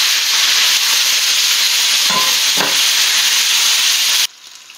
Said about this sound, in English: Now add the eels before the garlic is fully fried and and stir them constantly for 5 minutes more or less.